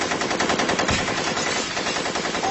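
Sustained automatic gunfire from a film scene, a dense continuous rattle of rapid machine-gun bursts at high, steady loudness with no break across the whole stretch.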